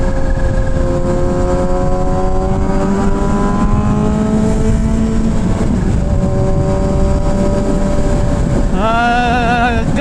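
A Kawasaki ZH2 motorcycle being ridden, its engine drone loud and close throughout with steady harmonic pitch that dips and climbs as the rider shifts, then a sharp rev near the end.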